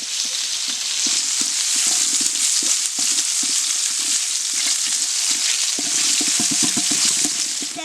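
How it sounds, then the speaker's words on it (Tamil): Garlic sizzles in butter and sesame oil in a pan, a constant crackling hiss with irregular stirring scrapes and clinks near the end, close and fairly loud, with no talking. "பட்டரு, நல்லெண்ணெய், பூண்டு போடுறோம்"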